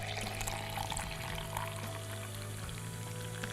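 Soda pours into a cocktail glass in a bar setting, a steady fizzing, splashing stream close by over a low background hum, lasting a few seconds without talk.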